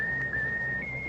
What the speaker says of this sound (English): How about whistling the tune that you like best of all?